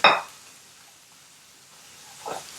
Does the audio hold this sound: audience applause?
no